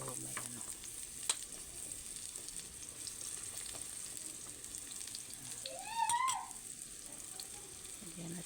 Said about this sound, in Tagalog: Una natin pirito ang kamote.